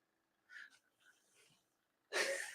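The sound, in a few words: dog snoring while lying down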